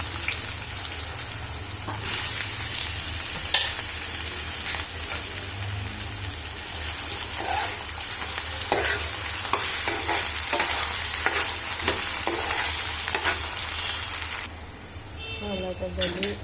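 Potatoes fry in hot oil with a little turmeric, making a continuous loud sizzle with frequent scraping and stirring clicks from a spatula, close up, eased off near the end.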